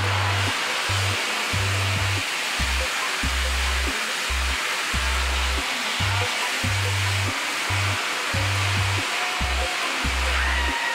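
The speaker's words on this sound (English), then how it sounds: "This is our dryer, it's a hair dryer." A hair dryer runs steadily, its broad airy whoosh underlaid by a low motor hum that pulses on and off in short irregular bursts, close and fairly loud throughout.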